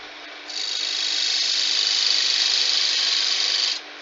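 A spindle gouge shaves a wooden candlestick spinning on a lathe, giving a steady hissing cut that starts abruptly, holds evenly over a faint motor hum for about three seconds, then stops.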